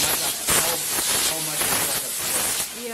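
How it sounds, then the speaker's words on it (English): A dry steam cleaner hisses steadily as it cleans curtains indoors, a continuous close airy spray with slight surges, while people talk over it. "But now I'm using dry steam."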